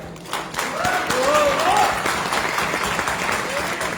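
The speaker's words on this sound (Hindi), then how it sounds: "तालियां बजाओ यार, तो बहुत बढ़िया।" An audience in a hotel hall for a Modicare business seminar claps steadily for several seconds, a dense sustained patter with a few higher vocal tones rising briefly over it.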